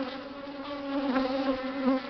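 An agitated swarm of honeybees droning close by, a steady rich buzz with wavering pitch and no voices.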